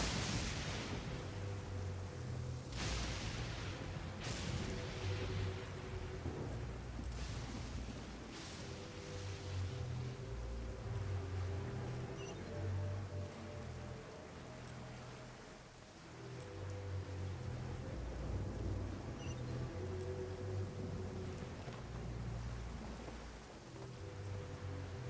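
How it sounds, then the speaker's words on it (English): Steady rain falls in the Genshin Impact video game, a constant broad hiss with a few sharper gusts or splashes near the start, while low tonal game music plays underneath throughout. "It's raining again."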